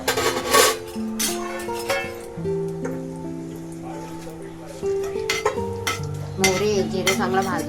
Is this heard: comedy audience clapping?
no